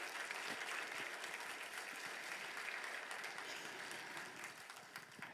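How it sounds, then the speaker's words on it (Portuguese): Congregation applause in a Portuguese-language church service, a full, dense roar of many hands clapping with faint crowd noise beneath, steady throughout and quiet in overall level, easing slightly near the end. "Para Jesus e para o Murilo, dê uma forte salva de palmas."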